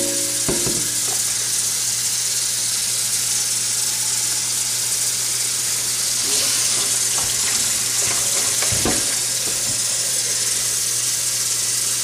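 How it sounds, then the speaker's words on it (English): Tap water runs steadily into a sink for cleaning art brushes, a continuous loud hiss with a few brief knocks and splashes, no talking. "You're going to let the water run in this area"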